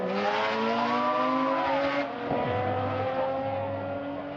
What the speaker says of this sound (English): In this video is a very young me and an even younger brother of mine watching this car race.